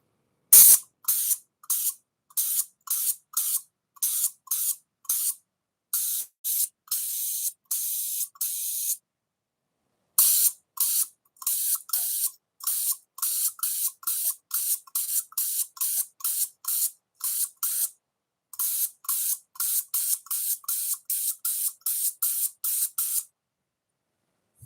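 Spray paint can hissing in rapid short bursts, dozens of quick sharp sprays in a rhythmic stream with brief pauses between runs, close and loud.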